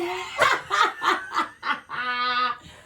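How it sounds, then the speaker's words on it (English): Dogs barking at the neighbors, close by: a quick run of four or five sharp barks in a steady rhythm, then a longer drawn-out whining or howling note. "The dogs are barking at the neighbors for no reason."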